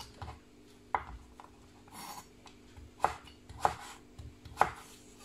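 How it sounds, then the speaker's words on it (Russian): A knife chops vegetables into thin strips on a cutting board while rolls are being prepared. Several crisp, distinct cuts sound at uneven intervals with quiet scraping between them. "И вот эти части тоже порежем вот так вот соломкой."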